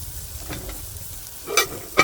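A small steak sizzles in a pan inside a custom Honda Element camper, a steady close hiss with two sharp clattering knocks near the end, no voices.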